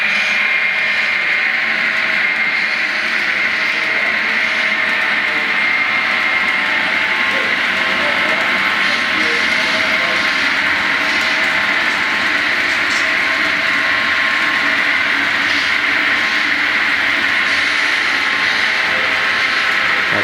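An HO scale model Chicago Great Western train with five F unit locomotives runs on a layout, giving a steady, even motor hum and rail rumble that continues unbroken throughout, close and fairly loud.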